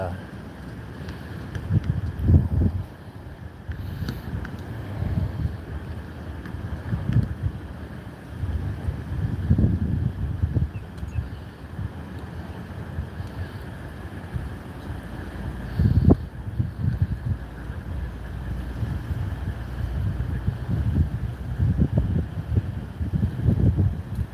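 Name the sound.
wind blowing at Fort Lauderdale beach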